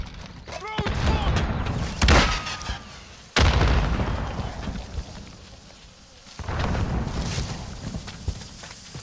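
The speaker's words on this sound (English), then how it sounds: "Grenade out!" A grenade exploding in Call of Duty: Modern Warfare during a 2v2 match, with heavy close blasts and sharp bangs mixed with gunfire and rumbling booms across the clip, and voices shouting in between.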